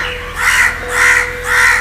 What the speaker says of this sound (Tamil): ஸோ அங்கே கரண்ட் கம்பிக்கிட்டு ஒரு காக்கா உட்காந்துட்டுருக்கு